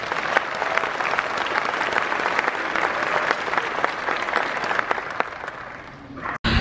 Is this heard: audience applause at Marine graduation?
yes